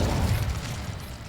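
An Incendio fire spell cast in Hogwarts Legacy gives a short, loud, rumbling boom with a deep roar that holds steady for just over a second.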